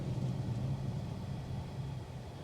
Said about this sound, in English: You're gonna hear a little bit of road noise through the wheel well area.